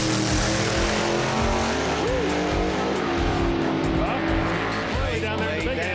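A coffin-shaped drag racing car making its last pass of the night down the strip, a loud continuous engine roar with rising pitch sweeps as it accelerates and shifts, with tire noise throughout.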